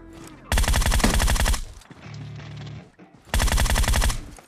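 Automatic gunfire in the mobile game PUBG Mobile rips out in two loud, rapid bursts, separated by a brief quieter lull, with no talking.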